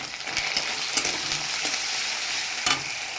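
Tomato paste sizzles and spits in a hot frying pan alongside boiled potato and soya chunks, a close, continuous crackle broken by a few sharp stirring scrapes.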